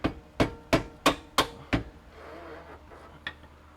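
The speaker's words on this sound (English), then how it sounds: "the rubber mallet made short work of Bolt." A rubber mallet pounds a bolt into place in a home garage: six sharp, evenly spaced whacks close by, then a quieter stretch and one last lighter tap.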